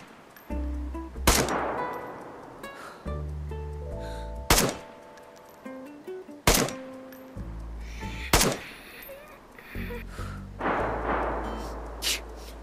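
Several loud gunshots in the video game DayZ on the Namalsk map, fired singly at irregular intervals with sharp cracks and short ringing tails over a low ambient drone, no talking.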